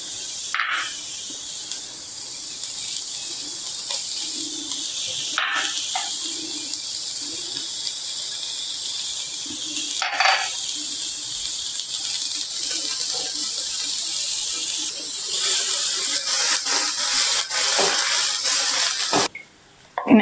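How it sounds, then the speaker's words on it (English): Vegetables sizzle on a hot tawa with a steady hissing fry, broken by occasional sharp clinks and scrapes of a utensil, growing louder and crackling more toward the end. "We're gonna fry some vegetables on the tawa first."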